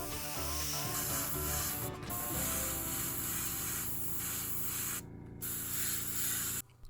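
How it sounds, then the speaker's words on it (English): An airbrush sprays paint onto individual boards of a model railroad gondola, giving a close, continuous hiss broken by two brief pauses. "I airbrushed individual boards with IDF light sand and light brown"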